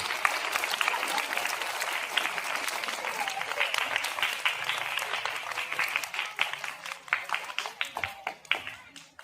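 Audience applause rings out at a school event, a dense, steady burst of many hands clapping that thins into scattered, separate claps before fading.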